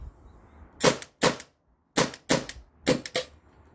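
Byrna TCR launcher dry fired on an HPA tank, giving six sharp pneumatic clacks in three quick pairs, close and crisp against near silence.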